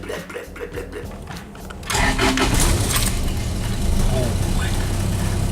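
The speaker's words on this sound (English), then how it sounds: "So it's actually got a lawnmower engine and Victor." A small lawnmower engine fitted in a Toyota Hilux ute rattles to life partway through and settles into a steady, buzzy idle close by, with quieter rustling before it starts.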